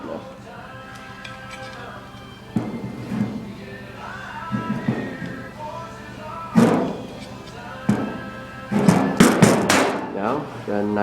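Step tool clamping and forming a step in replacement inner fenderwell sheet metal on a car, giving irregular sharp metallic clanks and thumps with someone talking between them.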